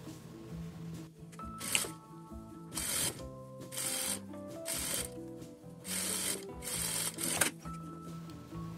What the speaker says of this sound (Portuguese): E vou passar uma costura aqui, uma costura de segurança em toda a volta